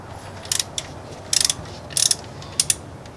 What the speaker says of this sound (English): And then let's loosen this pulley.